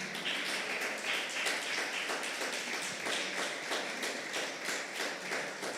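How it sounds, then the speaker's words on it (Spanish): A church congregation claps in steady, dense applause that carries evenly through the whole stretch, loud and close, with no voices above it. "Dale una ofrenda de palmas al Padre."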